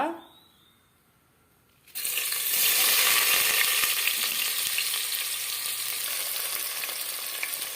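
Chopped onions frying in oil in a pot, a loud steady sizzle that bursts in suddenly after a quiet start and keeps going close by.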